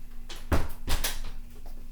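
A door being pulled shut with a resistance band wrapped around its handle, giving two soft thuds close together, moderately loud against a quiet room.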